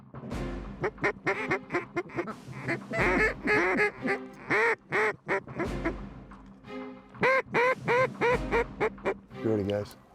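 Mallards quack and call over decoys on a bottomland river hunt in central Kansas, with loud, close bursts of repeated quacks separated by short pauses.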